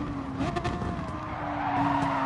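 In a racing video game, a race car's tyres squeal and skid as the rear end breaks loose, a sustained tonal screech over the steady engine drone.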